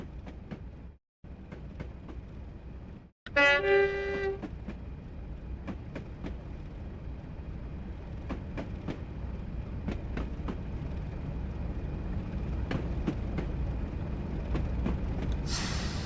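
A train in Train Simulator runs through a small two-platform station on Scotland's West Highland Line without stopping, giving a steady rolling rumble with repeated rail clicks, a brief horn-like tonal blast near the start and a rising hiss at the end.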